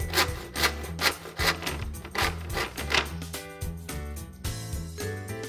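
A wooden wall panel board being cut by hand, with a rhythmic rasping saw stroke repeating roughly every half second, close and fairly loud throughout.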